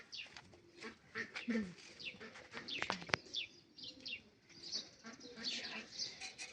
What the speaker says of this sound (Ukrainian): Лелеки це.